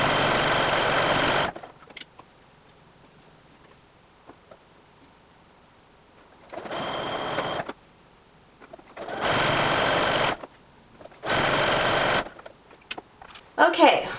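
Sewing machine stitching fold-over elastic onto fabric, running in four separate bursts of rapid close mechanical whirring with quiet pauses between them.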